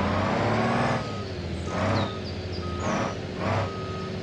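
A truck in the BeamNG driving game reverses: a steady low engine drone with loud, repeated electronic reversing beeps sounding in regular bursts close by, and no talking.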